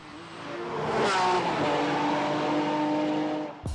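A Ferrari engine revs hard at high speed, a loud, rising and sustained wail with a brief surge in pitch before settling into a steady high note, with no talking.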